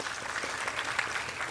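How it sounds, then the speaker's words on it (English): Soft, steady applause from an audience after a Bharatanatyam arangetram dance performance, heard at a distance and fairly faint, with an even texture throughout. "Can we get another round of applause for Sharanya?"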